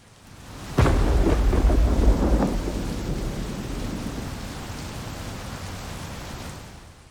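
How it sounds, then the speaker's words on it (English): A loud thunderclap bursts in, then a long rumbling roll fades under steady heavy rain that continues to the end. "The sound of the storm grew more intense"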